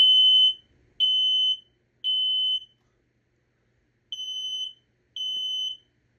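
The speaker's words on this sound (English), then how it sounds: "which will be the last two smoke alarms of this video" A household smoke alarm under test sounds five loud, shrill electronic beeps of about half a second each, two close pairs and a lone one with a longer gap in the middle, near and clear with no talking.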